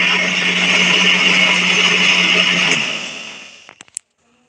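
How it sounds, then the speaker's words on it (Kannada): A mixer grinder runs steadily while grinding Bengal gram, jaggery and coconut, a loud whirring drone that winds down and stops near the end, followed by a few light clicks and taps. "ಮಿಕ್ಸಿ ಮಾಡ್ಕೊಂಡಾಯಿತು"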